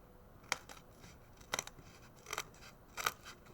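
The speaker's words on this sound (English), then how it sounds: "See how scissors work out here?" Scissors snipping through paper in four quiet, separate bursts of crisp cutting, each a short crunchy slice with pauses between, close up and alone.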